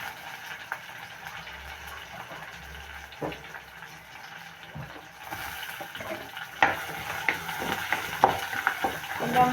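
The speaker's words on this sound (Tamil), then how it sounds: "கொஞ்சம் பொரியட்டுக்கும்." Onion and green chili fry in a pan with a soft, steady sizzle and occasional stirring clinks, growing louder and busier in the second half; no talking is heard.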